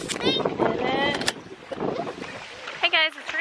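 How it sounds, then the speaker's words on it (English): Gusty wind buffets the microphone in a low rumble while people talk and a voice rises over it. "it's really windy out here"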